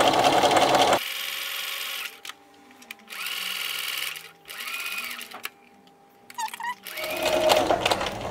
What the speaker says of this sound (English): sew again.